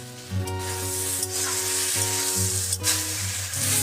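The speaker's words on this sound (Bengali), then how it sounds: "আদা বাটার একটা কাঁচা গন্ধ থাকে, সেটাকে একটু নেড়ে ছেড়ে একটু ভেজে নেব।" Ginger paste frying in a pan while it is stirred, a continuous bright sizzle with a few scraping strokes and a steady tone underneath, no voices.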